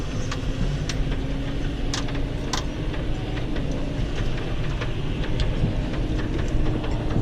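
A Massey Ferguson tractor labouring while ploughing a large beet field, a steady loud low engine drone with faint rhythmic ticks and rattles throughout, close, no talk.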